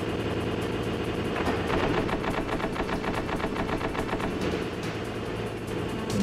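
Enemy gunner's rapid gunfire in Metal Gear Solid, a dense steady rattle of shots over a constant engine-like rumble, loud and continuous with no talking.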